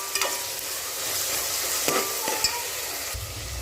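Onions sizzle loudly in a pan for a Chettinadu palak chicken curry, with continuous frying hiss and several quick spatula scrapes and taps as they are stirred.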